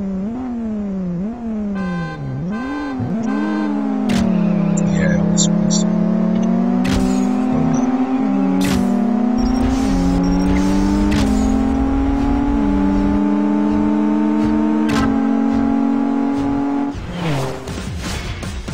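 Race car engines in the CSR Racing video game, one loud close engine revving and climbing through repeated gear shifts with steady high-pitched whine, punctuated by sharp clicks and ending as it cuts off.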